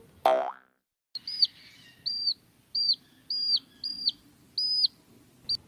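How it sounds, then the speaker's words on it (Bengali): Baby chicks peep in a rapid series of high, bright chirps that come in short bursts over a low background hum, after a brief vocal sound at the very start. "মুরগির ক্যাসকেস আর ভাল লাগে না"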